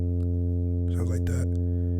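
Deep FL Studio synth bass with its low pass filter frequency lowered, a loud steady droning note held throughout while someone talks briefly over it.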